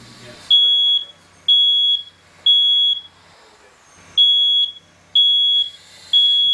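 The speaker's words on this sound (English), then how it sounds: "Your smoke detector is your first line of defense. When you hear it, you need to get out" A smoke alarm sounds loud, shrill beeps in a steady repeating pattern, six blasts about a second apart with short gaps between.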